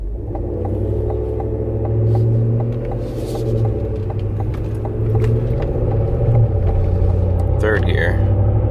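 Cadillac Escalade with a Corsa Sport exhaust rumbling in a steady low drone while driving, heard from inside the cabin with a person talking over it.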